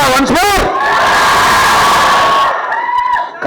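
Crowd at the Eagle movie trailer launch event shouts and cheers loudly and continuously, a dense roar of overlapping voices with a few higher whoops, fading briefly near the end.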